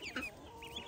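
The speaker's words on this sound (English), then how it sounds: "Of course, the chickens are trying to come over here and see what's going on." Chickens cluck close by in short, quick bursts, a few soft calls over a quiet farmyard background with no talking.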